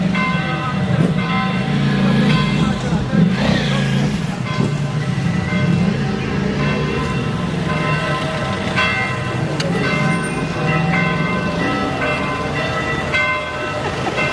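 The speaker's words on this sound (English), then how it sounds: "Maybe they're wedding bells." Church bells ring continuously outside a church in Naples, Italy, after a wedding. The clanging peals are steady and loud, with street noise and distant chatter underneath.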